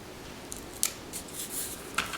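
Scissors snip through paper while a project book is assembled, a few quiet, crisp cuts spaced irregularly over a faint steady background, close and alone without talk.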